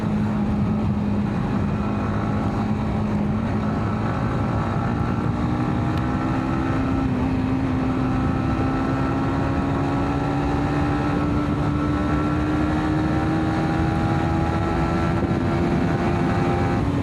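Yamaha MT 15 motorcycle ridden at speed, the engine a loud continuous drone climbing slowly in pitch as it accelerates in gear, with heavy wind noise over it and no pauses.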